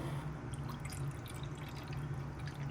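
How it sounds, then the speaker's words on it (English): Water pours into the reservoir of a Keurig coffee maker in a steady, close trickle over a low hum, with no talking. "I'm going to pour in my cup of water into this reservoir."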